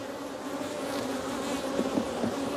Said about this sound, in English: That's what's buzzing me so bad right now is several drones.